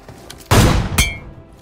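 A single sharp, loud AWM sniper rifle shot in PUBG Mobile, a heavy crack followed by a quick metallic clink of the bolt.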